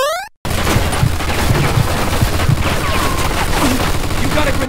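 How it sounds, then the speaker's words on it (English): Sustained machine gun fire in the video game Mafia II, loud close bursts of rapid shots over a dense roar of battle after a brief cutoff, with shouted voices mixed in. "Looks like we found the machine gun!"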